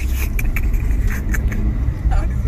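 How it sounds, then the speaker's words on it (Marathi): A car drives through heavy road traffic, heard from inside. There is a steady, loud low rumble of engine and road noise, with faint voices in the background. "आणि आता सगळी ट्रॅफिक लागली रोडनी"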